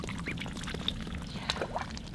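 Ducks in their pen quack softly at a moderate distance, several short calls scattered over a steady low background rumble.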